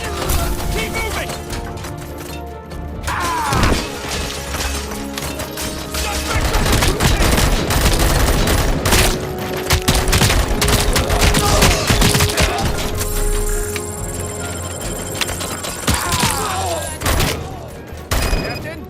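Rapid bursts of automatic gunfire ring out in a RoboCop film scene, loud and continuous, mixed with mechanical clanks and shouted commands over a dense, chaotic battle soundscape.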